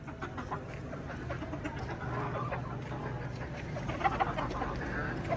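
Chickens, including hens, clucking in a farmyard, a steady dense murmur of soft calls over low rumbling background noise, without clear standout calls.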